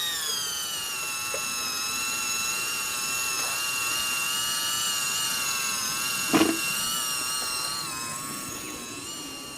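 Black Rat RC servo winch reeling in a car weighted with 11 kg blocks and fitted with big 2.2 tyres, a steady high-pitched electric whine that slowly rises in pitch, with a short clunk midway and no speech.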